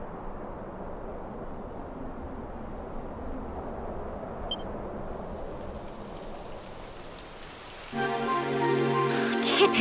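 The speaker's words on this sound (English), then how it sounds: "It would have to go and start raining, wouldn't it?" Steady rain pours in the Dragon Quest XI video game, a continuous close hiss of falling drops, with brighter musical game sounds joining near the end.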